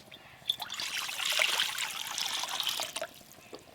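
Water is poured into a vessel in a home kitchen while an egg dish is being cooked, giving a few seconds of close, steady trickling that swells and then tapers off.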